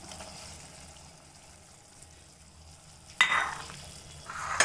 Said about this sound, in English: Now our tamarind pulp, the onion, everything is started boiling.